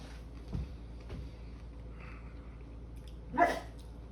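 A drooling dog begs for food with a few soft, faint whimpers and a short yip near the end, in a quiet indoor kitchen.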